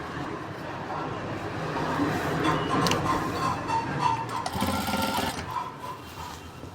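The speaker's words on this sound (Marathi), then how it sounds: "आता आतल्या बाजूने मधून शिलाईला सुरुवात करायची." A sewing machine runs steadily while stitching a stand collar strip onto a kurti, a continuous close whirring hum with slight changes in speed and no speech.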